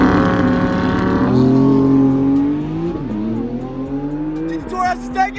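Porsche 911 GT2 RS and Audi R8 launching side by side, engines roaring at high revs with rising, shifting pitch through gear changes, loud and close, fading slightly as the cars pull away.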